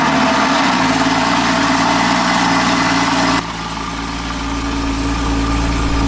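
Porsche sports car with a 3.4-litre flat-six and PDK gearbox starts up loud and close, cranking briefly before catching into a dense, steady idle that drops slightly in pitch after a few seconds and then holds.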